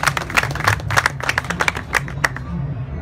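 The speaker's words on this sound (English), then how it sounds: "Very hard clap for him." A small group claps for a student speaker at an English language club in Sudan, close and uneven sharp claps that gradually thin out and stop.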